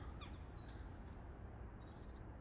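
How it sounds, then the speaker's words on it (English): Birds call outdoors on a freezing morning of about -5 °C with ground frost. Faint, thin chirps sit high over a steady background hiss. "And at least the birds are out."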